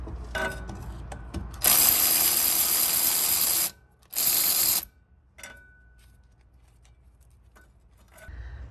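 A socket ratchet works loose the half-inch starter cable bolt on a 1995 Chevy G20 van with a 350 5.7L: a short early burst, then a long run of close, loud, rapid clicking, a brief pause and a second shorter run.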